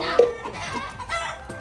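Brief clucking from chickens, a short sharp cluck followed by softer scattered clucks in the background.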